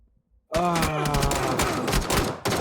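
Automatic gunfire in PUBG starts abruptly after a half-second of silence and continues as one loud, sustained burst to the end, with a short break just before the close.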